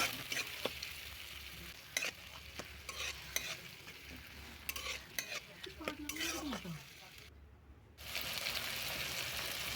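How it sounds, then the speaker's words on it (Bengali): Tomato paste frying in oil in a pan for a vegetarian Bengali jackfruit curry, a steady soft sizzle with repeated scraping and stirring strokes of a utensil, close and fairly quiet. "টমেটোর পেস্টটা দিয়ে দিলাম দিয়ে ভালো করে তেলের সঙ্গে আমি কষিয়ে নেব পেস্টটা"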